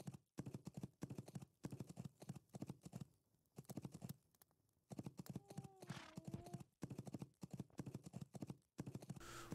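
Hoofbeats of horses clip-clop at a steady, repeating pace in the fantasy game Legends of Aria, moderately quiet, with a few brief gaps and a faint tonal whistle partway through.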